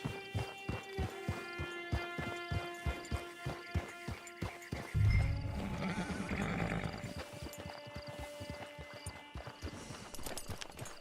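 A horse in a Wild West video game clops along at an even trot, hooves striking rhythmically, then breaks off into a loud snort and whinny before the hoofbeats resume over a soft musical backdrop.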